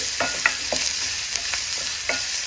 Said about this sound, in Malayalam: ഉള്ളിനെ ഒന്ന് വണക്കിയെടുക്കാം ഒരു ഗോൾഡൻ യെല്ലോ ഷെയ്ഡായി ആകുന്ന സമയം വരെ